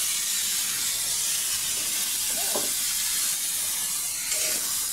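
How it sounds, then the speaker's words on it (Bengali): Mustard paste with green chilli stir-fries in a hot pan, giving a steady, even sizzle and hiss throughout, with a faint scrape of stirring midway and no talk. "সর্ষে বাটাতে দিয়ে ভালো করে কষিয়ে নেব।"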